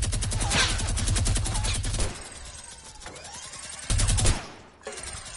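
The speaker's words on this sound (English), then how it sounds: "Mini gun." Rapid, dense minigun bursts in Fortnite, a loud continuous stream of fire for about two seconds, then a quieter stretch and a second short burst, with no talking.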